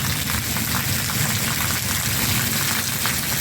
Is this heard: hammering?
no